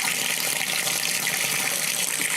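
Water pours steadily through a cloth filter into a tank for bathing, a continuous close splashing gush without pause.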